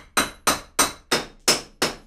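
A stuck bolt on a BMW E36/5 323ti suspension is struck by a hammer six times in a steady rhythm, each metallic blow loud and close with a short ringing decay.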